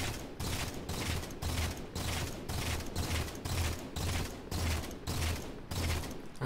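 Gunfire in the video game Halo MCC: steady rhythmic bursts of automatic shots, about a dozen evenly spaced volleys, fairly quiet and with no talking.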